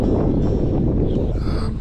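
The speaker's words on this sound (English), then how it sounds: "It's windy, it's cold." Loud, constant wind buffeting the microphone, a heavy low roar with no breaks.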